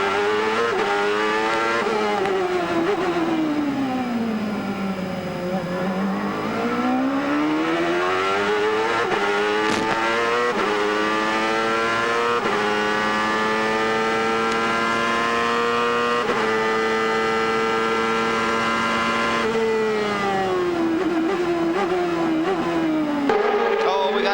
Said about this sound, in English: listen to the work that that Ford Cosworth engine is doing